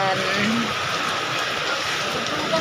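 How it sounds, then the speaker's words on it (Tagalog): Heavy typhoon rain pours down in a steady, dense hiss with a low background rumble. "Lakas ng ulan."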